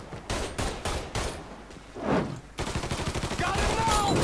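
Gunfire in Mafia 3: rapid bursts of shots in a steady volley, loud and close, with a brief lull midway before dense firing resumes to the end.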